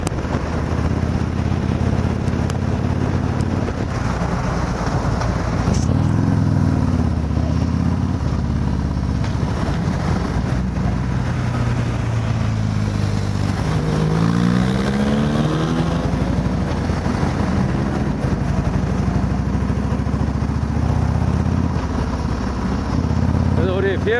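A Harley-Davidson Road King fitted with an S&S muffler is ridden on the road, its loud, close engine droning steadily throughout, with the pitch sweeping up and down as the throttle changes midway.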